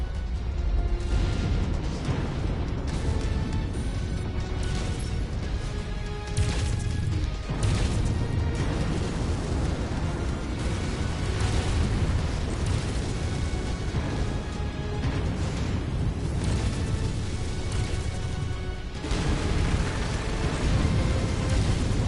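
Mechs firing weapons in MechWarrior 5: Mercenaries, a dense, continuous barrage of booming blasts and crashing impacts layered over one another, loud and sustained with no talking.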